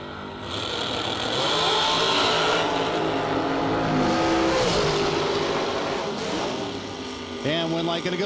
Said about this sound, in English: Williams, the dragster. Saunders, the 72 Nova.